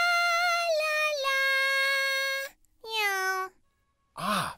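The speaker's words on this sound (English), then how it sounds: "Meow." A cat meows several times, drawn-out clear tonal cries with short gaps between them, close and loud with no other sound around them.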